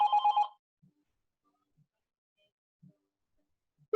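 A telephone bell rings in a rapid trilling burst at the start, followed by near silence with a few faint clicks and the edge of another ring at the end.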